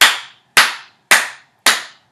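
A class of violin students clap a rhythm together, four sharp, even claps spaced about half a second apart, close and crisp, with no talk.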